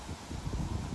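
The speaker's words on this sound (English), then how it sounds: "Because it's windy right now." Wind blows across an open campsite beside a truck, a low, steady rumble and buffeting of moderate loudness with no other sounds.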